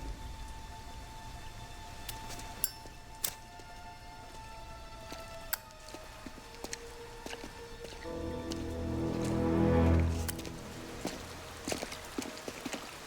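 Steady rain falling in Mafia: Definitive Edition, a constant patter with scattered sharp drips and taps, swelling briefly with a low rumble before settling back to the even downpour.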